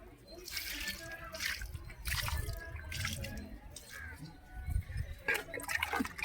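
Sour buttermilk solution poured onto garden plants gives soft, irregular splashes and drips outdoors, fairly faint, with intermittent trickling.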